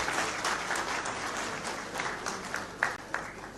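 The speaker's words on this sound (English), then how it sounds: "All right, another big round of applause indeed for." Dense, sustained applause from a large audience at the first heads of state summit of the KAZA transfrontier conservation area, a continuous wash of clapping with a couple of louder claps near the end.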